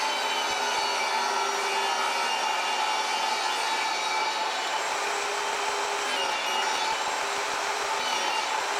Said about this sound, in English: These will be made from 1/4-inch plywood, again, just whacked up on the table saw.